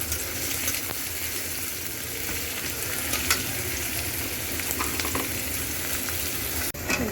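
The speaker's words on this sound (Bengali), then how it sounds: "তো পেঁয়াজটা ভেজে নিলাম, খুব একটা লাল করবো না।" Chopped onion fries in hot oil in a home kitchen, giving a continuous bright sizzle with occasional scraping and stirring knocks, close and steady throughout.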